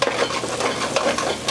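Onions caramelizing with sugar are stirred in a pan, a close, continuous sizzle with rhythmic scraping strokes of the utensil, no talk.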